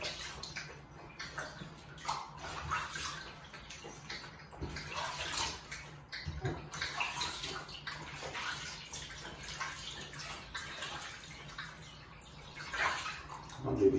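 Water splashes and trickles in a tub while a dog gets its first bath, producing uneven, close sloshing and pouring with irregular swells and brief pauses and no speech over it.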